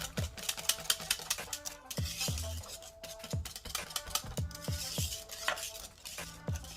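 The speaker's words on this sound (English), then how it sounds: "I'm just gonna mix that around, guys, with my whisk" A whisk beats coconut milk into thick green plantain porridge for a Jamaican dish, ringing against the pot in a fast, steady run of clinking strokes, close and fairly quiet.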